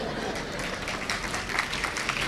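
An audience at a Tamil motivational speech applauds, a steady wash of clapping that swells slightly toward the end, fairly loud and close.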